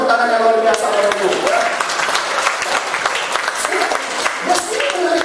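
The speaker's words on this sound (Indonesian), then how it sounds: "mari kita berikan tepuk tangan yang luar biasa oleh Ibu." Audience applause at an Indonesian family event about wise gadget use, a dense steady wash of many hands clapping through the whole stretch, fairly loud, with voices and tonal sounds faintly mixed in early on.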